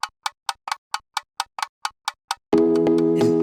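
Toy sound effects tick like a clock, ten or so sharp evenly spaced clicks, then a sustained tonal chord from a remixed Christmas song takes over at the end.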